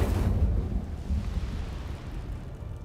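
Deep whooshing burst of the Incendio fire spell in Hogwarts Legacy, a loud rumbling roar at the start that slowly fades into a low sustained crackle.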